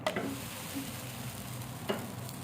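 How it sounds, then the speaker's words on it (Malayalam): Flatbread laid onto a well-heated pan for a Kozhikode-style breakfast dish, giving a soft steady sizzle with a couple of brief scraping or handling sounds near the start and again near the end. "പാൻ അടുപ്പത്ത് വെച്ച് നന്നായിട്ട് ചൂടായതിന് ശേഷം അതിലോട്ട് ഇട്ടാൽ മതി"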